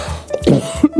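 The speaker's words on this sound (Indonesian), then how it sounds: "saya mau batuk" A person coughs once up close indoors, a short throaty burst followed by a couple of small throat-clearing sounds.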